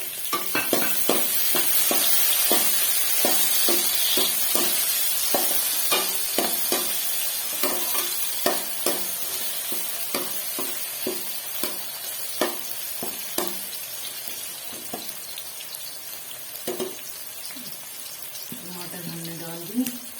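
Chopped tomatoes hit hot oil in a pot for chana pulao, giving a steady close sizzle broken by frequent sharp clacks and scrapes of a spoon stirring, with a brief louder clatter near the end.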